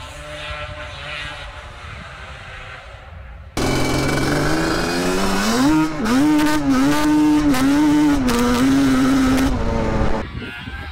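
A quiet idle gives way to a Yamaha Banshee 421 two-stroke ATV engine bursting to life, then revving up and down in several sharp blips before settling back.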